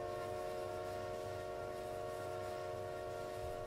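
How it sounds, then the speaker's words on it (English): Steam locomotive whistle in Trainz Simulator 2 on a Paris Montparnasse route, a steady, sustained chord-like tone held loud and unbroken throughout, with a faint low chuffing rumble beneath. "let's blow the whistle on this thing"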